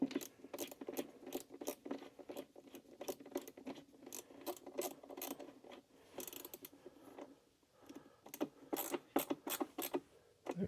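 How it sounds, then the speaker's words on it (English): A screwdriver turns screws into a speaker in a Marshall Origin 50 guitar amp, giving rapid ratcheting clicks in repeated bursts with short pauses between them, close and fairly quiet, with no talking. "Bring in the screwdriver."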